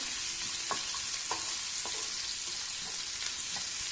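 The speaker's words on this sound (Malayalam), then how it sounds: "ഒരു ബ്രൗൺ കളർ ആകുന്നത് വരെ നമുക്കിതൊന്ന് വഴറ്റി കൊടുക്കാം." Chana dal and green chilies sautéing over medium flame for mango rice, a soft continuous sizzle with several light, evenly spaced spatula taps and scrapes, fairly quiet and steady throughout.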